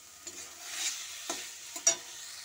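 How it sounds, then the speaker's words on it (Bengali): Small fish and potato curry is stirred and sautéed in a pan, giving a soft continuous sizzle broken by several scraping strokes of a spoon, heard close up with no talk. "এই যে এটাকে আমি ভালো করে কষিয়ে নেব সামান্য একটু জল দিয়ে।"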